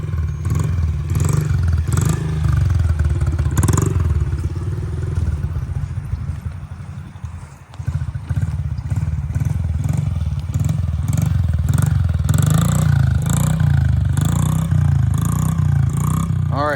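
Honda CRF 50 dirt bike being ridden, a steady buzzing small engine droning throughout with some clatter and a brief dip midway, mid-distance, while people talk over it.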